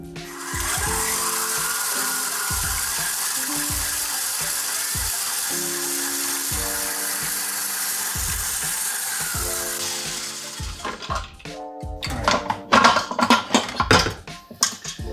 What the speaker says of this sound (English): we're gonna whisk it really quick to make it all nice and uniform